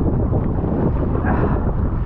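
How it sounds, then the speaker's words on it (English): Wind buffets the microphone in a steady, loud low rumble during wing-foiling on open water in roughly 10-knot conditions, rising slightly as a gust arrives, with no talking. "There's a little gust. That's a little bit more."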